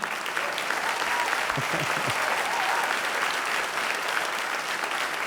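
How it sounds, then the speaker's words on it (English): Audience applause at a community inauguration ceremony in Rochester Hills, following the national anthem. The clapping is dense and steady, continuous from start to finish, with faint crowd murmur underneath. "we should start with a round of applause for that smoking hot national anthem singer this morning"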